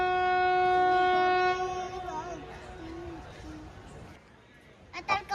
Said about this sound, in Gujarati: આ છે રાજકોટની ટ્રેન છે ભાઈ